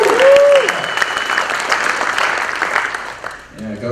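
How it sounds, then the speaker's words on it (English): Keynote audience at the Big Android BBQ breaks into loud, sustained applause, broad clapping carrying on for several seconds before tapering off near the end. "go for the applause break every single time, no matter how cheap"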